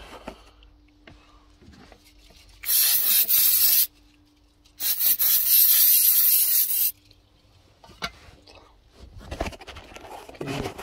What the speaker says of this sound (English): I've just sprayed some electrical contact cleaner.